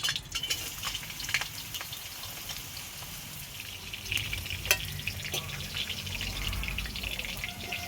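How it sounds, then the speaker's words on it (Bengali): Vegetables for a mixed-vegetable dal fry in hot oil, giving a steady, close crackling sizzle with scattered sharper pops and occasional stirring throughout. "সবজিগুলো একটু হালকা ভেজে নেব।"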